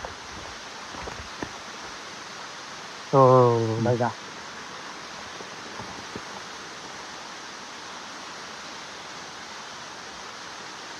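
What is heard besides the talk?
waterfall flowing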